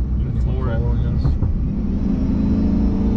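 Cammed stock GMC truck engine pulling hard at full throttle, a deep steady rumble heard from inside the cab, with people talking over it.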